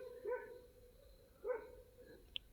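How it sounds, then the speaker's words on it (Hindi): Two separate barks from a street dog, spaced about a second apart, moderately distant and fairly quiet, with a brief faint click near the end. "ये मेरे गली का कुत्ता बहुत भौंक रहा है भाई।"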